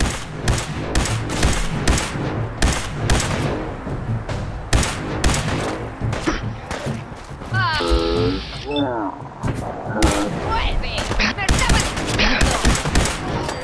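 Gunfire rings out in the video game Fallout 4, dense bursts of rapid shots going off repeatedly and loudly throughout, with voices shouting over the fire.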